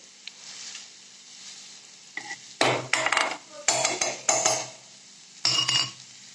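Potatoes are mashed and stirred in a pan over a low stove flame, with a soft sizzle and a series of loud, scraping utensil strokes against the pan.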